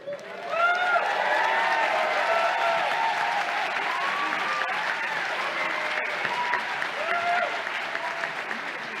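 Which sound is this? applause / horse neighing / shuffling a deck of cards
applause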